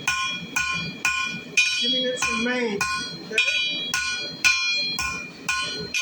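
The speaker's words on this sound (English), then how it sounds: "I'm going to soften his neck with my hammer just to take the sharp edge off." A blacksmith hammers hot iron while forging a horsehead, sharp ringing blows falling in a steady, evenly spaced rhythm, close and loud, with someone talking between strikes.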